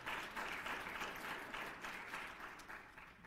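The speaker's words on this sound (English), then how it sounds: "Please give him a round of applause again." Steady audience applause fills a faculty institute gathering, a dense, continuous wash of many hands clapping at moderate volume, easing off slightly toward the end, with no speech over it.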